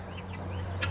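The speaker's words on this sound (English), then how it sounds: "The guineas are all excited. I can hear them buzzing." Excited guinea fowl on a farm give a few brief high buzzing calls over a low steady hum, fairly faint and not far off.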